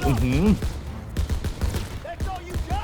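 Rapid bursts of gunfire crackle in a World War II battle in Call of Duty WW2, a dense fusillade of sharp shots running under excited shouting voices.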